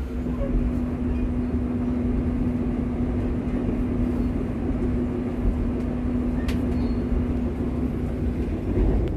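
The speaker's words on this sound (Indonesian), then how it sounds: "Sekarang kita akan masuk ke dalam rangkaian kereta api Lodaya." A Lodaya passenger train stands at Cibatu station, filling the air with a steady low engine hum and a constant broadband rumble, close and even throughout, with a brief faint clatter partway through and no voices.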